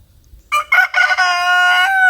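A little rooster in a backyard garden flock lets out a loud, close crow, starting with a couple of short rising notes and then stretching into a long, sustained call.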